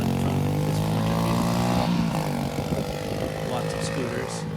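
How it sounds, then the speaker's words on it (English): Motor scooters drone past on a road in Vietnam, engines rising and falling in pitch over a continuous traffic rumble, with faint voices in the background. "Lots of scooters."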